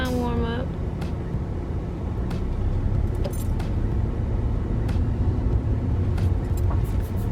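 A car drives slowly around a parking lot as a warm-up, its steady interior road rumble and engine hum continuous throughout, with a voice talking over it and a few light clicks and rattles inside the cabin.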